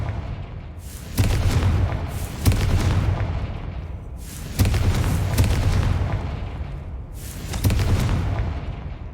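Confringo explosive spell in the Hogwarts Legacy video game, heard as four loud booming blasts at irregular intervals, each with a rumbling tail that decays before the next.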